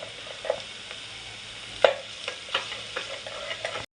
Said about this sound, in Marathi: मालवणी मसाला कांदा टाकून घेऊयात